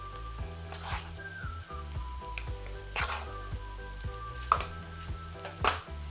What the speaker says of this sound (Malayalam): ഇതൊന്ന് ഇതിൻ്റെ പച്ചമണം മാറുന്നവരെ ഇതൊന്ന് നല്ല രീതിയിൽ വഴറ്റിയെടുക്കാം